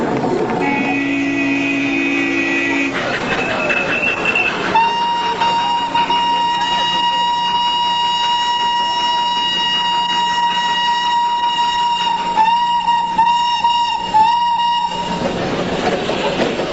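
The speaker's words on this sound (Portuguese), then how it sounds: "E só com alças engenhosas, com zigue-zagues e passagens muito estreitas, o pequeno trem de brinquedo chega ao topo." A small toy train climbs the Himalayan foothills railway in India, its wheels rumbling steadily on the track while sustained horn or whistle tones ring out clearly over the running noise.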